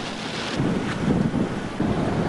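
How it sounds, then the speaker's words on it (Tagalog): Strong, gusty typhoon wind from Typhoon Lawin in Cagayan, rushing and buffeting the microphone in bursts, with rain in the storm. No voices. "Ramdam din ang malalakas sa bugso ng hangin"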